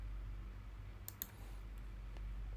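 A single Enter key press on a computer keyboard, a couple of quick faint clicks in a quiet room with low background hum.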